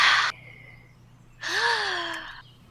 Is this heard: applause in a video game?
no